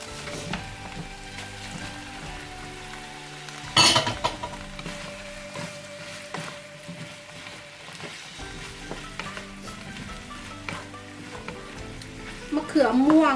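Purple eggplant stir-fries in a pan with a steady, close sizzle. A sharp clatter of utensils interrupts it, and intermittent scraping and stirring continue throughout.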